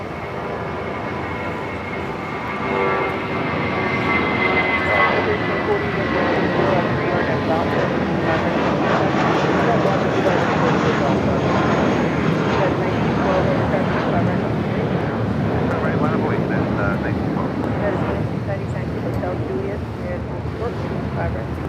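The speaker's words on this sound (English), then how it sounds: "That was JetBlue Airways Flight 1463 heading to Cabo in at A320." A JetBlue Airways Airbus A320 takes off at Los Angeles airport, a broad continuous jet roar that swells and holds with wind buffeting the microphone.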